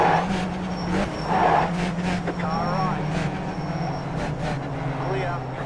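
Skip Barber race cars brake into a corner at Spa in iRacing, engines droning and dropping in pitch with sharp downshift blips, a close steady roar with a voice talking over it.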